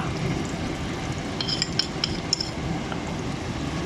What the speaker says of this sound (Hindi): मैदा जो है इसमें अच्छा सा भुनेगा।